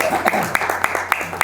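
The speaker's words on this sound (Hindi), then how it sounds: "ताली बजाओ यार।" A few quick, rhythmic claps from an audience at a Bollywood film launch event, brief and moderately close, mixed in under a man's continuous speech.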